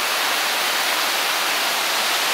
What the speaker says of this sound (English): There's multiple waterfalls here.